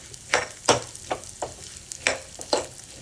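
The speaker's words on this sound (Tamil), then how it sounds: "நல்லா வறுத்துக்கோங்க" Lentils fry in hot oil for paruppu thuvaiyal, with six distinct spatula stirs scraping through a soft sizzle at an uneven rhythm, close and fairly quiet, with no speech.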